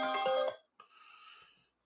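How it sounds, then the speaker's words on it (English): A phone ringtone sounds as one bright, harmonic burst, then a short gap and a fainter, thinner second tone, all alone with no talk. "Phone call."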